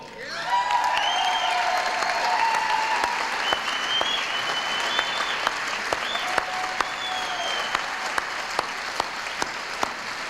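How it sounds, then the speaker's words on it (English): Applause from the audience at the Native American Music Awards rolls on steadily as a broad, even clatter of many hands, with faint tonal sounds and occasional sharper ticks over it. "give a round welcome applause to the producer tonight of the Native American Music Awards, Miss Ellen Bello."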